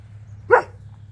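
A dog gives one short, sharp bark nearby as a pipe truck pulls into a parking lot, over a low engine rumble.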